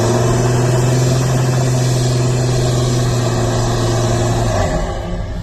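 A Toyota LC300 truck engine drones loudly and steadily under load, holding a deep even tone for about four and a half seconds before it drops off. No voices.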